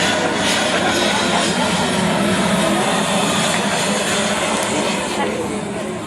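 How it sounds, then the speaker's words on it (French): An airplane taking off produces a loud, steady, broadband engine roar that holds unbroken from start to finish, close and dominant. "L'avion décolle."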